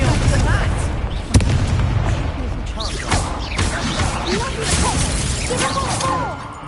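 A spell cast in the video game Hogwarts Legacy: a sharp magical whoosh and crack bursts out amid a dense, continuous wash of swishing combat effects and booming impacts.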